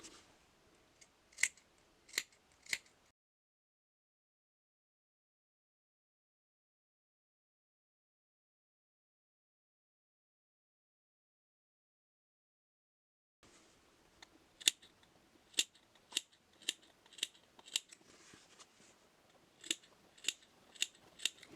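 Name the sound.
cutting fabric corner with scissors, sewing a bag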